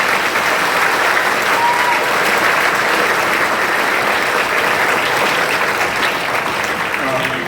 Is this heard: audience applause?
yes